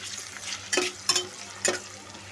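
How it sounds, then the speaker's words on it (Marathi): Tomatoes are stirred into browned onions frying in a pan for pulao rice. Three distinct scraping strokes break through a soft, steady sizzle close by. "टमाटर हलवून घेऊ।"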